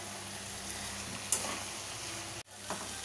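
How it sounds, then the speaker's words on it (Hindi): Potato and pea masala frying in a pan, a steady low sizzle with an occasional scrape of stirring, broken by a brief drop near the end before the sizzle resumes. "अब इसे आप 5 मिनट तक भून लें।"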